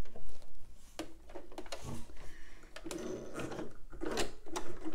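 A sewing machine runs a zigzag stitch along a pyjama top's neckline, its needle tapping in quick, uneven bursts, fairly faint and close, with no talking.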